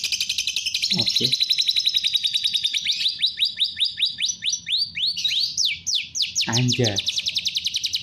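A caged lovebird sings canary-style phrases: rapid, high chirps and trills, then a run of quick upward-sweeping whistles. It is loud and close, with two brief spoken words breaking in.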